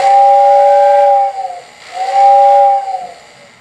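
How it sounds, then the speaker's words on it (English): A Lionel Powermaster model train air whistle, sounded from a remote, gives two loud, close, sustained hissing whistle blasts, each over a second long with a brief gap, no voices. "Now I'm going to blow the whistle by simply pressing the whistle button on the remote."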